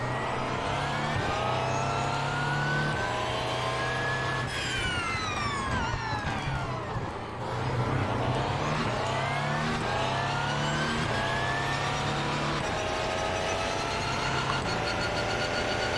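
Audi R18 LMP1 prototype race car engine in the iRacing simulation at Circuit de la Sarthe, Le Mans, a steady loud droning roar with rising and falling pitch through gear changes, alone without talk throughout.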